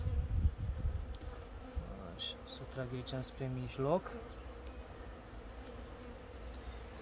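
Honey bees buzzing around a hive frame, a close, continuous hum with a louder wavering drone partway through, while a person speaks quietly over it.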